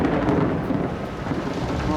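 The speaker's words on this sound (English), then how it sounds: "I've never been that close to thunder and lightning." Thunder rumbles through a storm at sea during the night, heard from a small sailboat's cockpit as a continuous heavy, loud roar mixed with rain and wind, with no talking.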